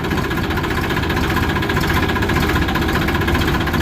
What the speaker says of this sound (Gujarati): એકદમ ફ્રેશ અવાજ છે ટ્રેક્ટરનો